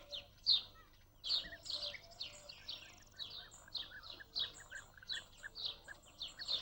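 Small birds chirp at a shallow seasonal pond: a busy flock giving rapid, high, overlapping tweets in quick bursts, fairly soft and slightly distant, with no voices.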